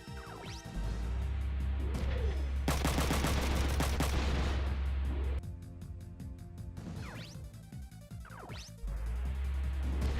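Rifle gunfire in the video game Front Mission 3, loud bursts and cracking impacts over a low engine-like drone, with a long dense volley in the middle and brief quieter gaps between.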